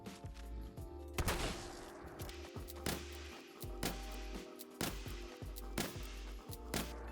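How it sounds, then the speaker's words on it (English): Single shotgun fired in Fallout 4, a series of sharp separate blasts about a second apart, each with a short decay, over a low game hum. "bringing it down to the last shot, we have 7 shots to put down a Deathclaw"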